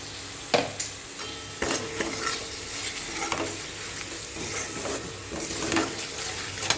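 Tomato being mashed into hot oil with salt and spices in a pan, sizzling steadily with repeated scraping and stirring knocks, close and fairly loud, no voices.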